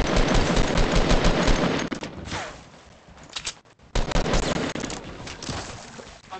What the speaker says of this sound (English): Fuck, I got sniped at.